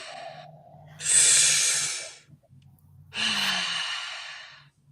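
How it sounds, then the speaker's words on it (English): Two deep breaths taken together by a group, each a long, loud airy exhale lasting about a second, separated by a short pause with a low hum underneath. "Everyone do the 2 breaths with us."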